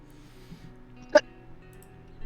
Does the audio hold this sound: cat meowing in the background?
no